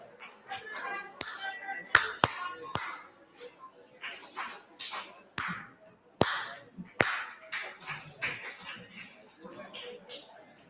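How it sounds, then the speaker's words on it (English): A church workshop congregation claps back a rhythm in scattered sharp claps and slaps spread over several seconds, with talking voices heard between the claps. "So if you can hear me, try to clap back this rhythm."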